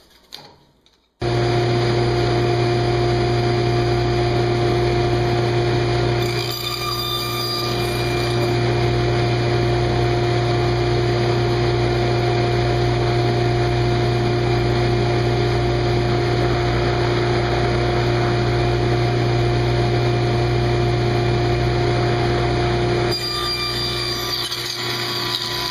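Table saw with a jig cutting tenon cheeks in cherry wood, a loud, steady motor drone with a constant hum that runs unbroken for most of the stretch, with brief dips as the cuts change.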